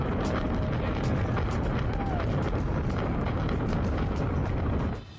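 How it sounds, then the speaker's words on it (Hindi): Rumbling roar of the 1998 demolition of the JL Hudson department store building, a dense, loud sustained blast with crackling debris that cuts off near the end, heard beneath a narrator's voice. "धमाका इतना जोरदार था कि इसके आसपास की इमारतों की खिड़कियां बंद करने के बाद भी टूट गई थी।"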